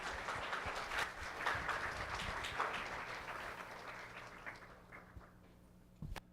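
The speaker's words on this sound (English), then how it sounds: "Once more, guys, let's have a round of applause" Audience applause at a stage talent show in Guyana, a broad wash of many hands clapping that holds steady, then slowly thins and fades toward the end, with one sharp knock just before it closes.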